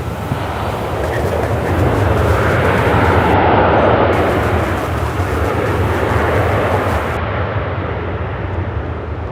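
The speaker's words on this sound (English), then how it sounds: "I'm trying to get adapted to the aircraft coming in from over my shoulder." A passenger airplane arrives at Charlotte Douglas airport, its engines producing a loud, steady broadband roar that swells slightly in the middle and holds throughout.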